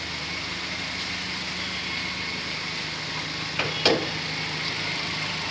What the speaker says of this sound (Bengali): ইঞ্জিনের সাউন্ডটা একটু ভাই শোনাবো।